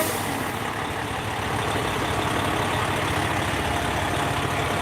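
A heavy fire truck engine idles with a steady low diesel rumble and creeps forward at a protest in Montfort Park, Greeley; the drone stays loud and continuous throughout, with broadband street noise over it and no talk.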